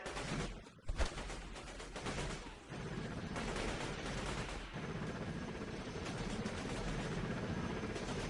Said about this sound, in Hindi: देखिए हमारा हेलीकॉप्टर भी आ गया